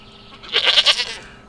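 A goat bleats once in a drawn-out, wavering cry that lasts about half a second, close and clear against a quiet background with no talking.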